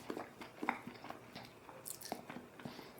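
Quiet, close chewing of a cracker topped with a lot of brie cheese, soft crunches and wet bites in an irregular rhythm.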